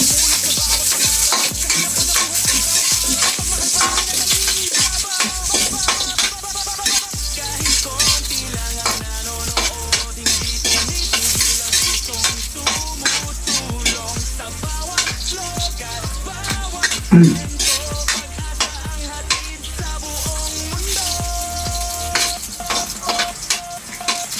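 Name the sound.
ginger frying and being stirred in a pan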